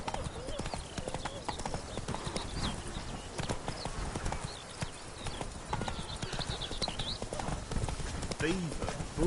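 Hooves of the horse Roach pounding in a steady gallop in a video game, a dense rapid clip-clop rhythm running throughout alongside a brief whinny, with someone speaking over it.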